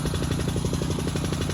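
An air-powered pneumatic fence post driver, run off a compressor, hammers in a rapid, steady mechanical pounding rhythm, loud and close with a constant droning undertone.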